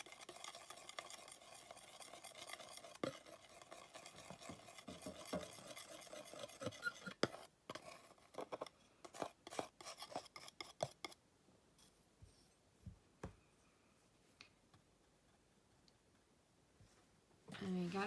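Palette knife mixing black oil paint on a palette, quiet close scraping and smearing strokes that come in irregular bursts, with sharper taps mid-way, then fading to faint occasional scrapes.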